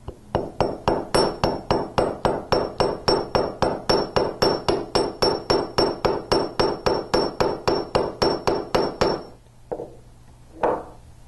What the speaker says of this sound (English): I can hammer this side of the paddle just as I did the other.